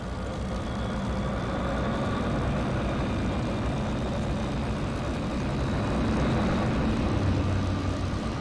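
Airplane engine running steadily at close range, a continuous loud broadband roar with a low rumble that builds slightly toward the end, with no speech over it.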